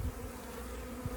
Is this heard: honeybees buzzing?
yes